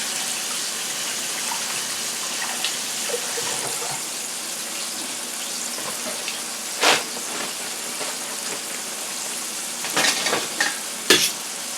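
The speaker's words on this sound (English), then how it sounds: "To see if it's frying too fast or anything like that." Flour-coated chicken fries in hot oil for crispy fried chicken, a steady close sizzle and hiss running throughout with a few louder crackles and bursts near the end, no talk.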